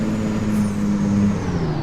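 A truck engine labors in too high a gear, a loud, steady low drone that holds one strained pitch and sags slightly near the end, with road noise around it.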